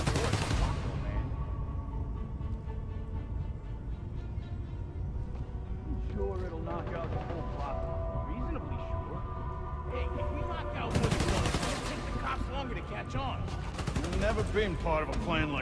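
Bursts of rapid gunfire and heavy shots ring out in the Spider-Man: Miles Morales video game, loud and repeated amid game score and effects, while characters talk throughout.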